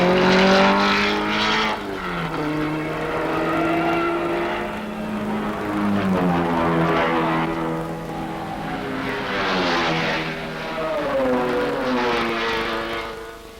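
Ferrari race cars, among them the Hill–Bonnier Ferrari and a GT Ferrari, roar loudly past at the 24 Hours of Le Mans. Engine notes rise and fall in pitch as the cars pass one after another, with no talk over them.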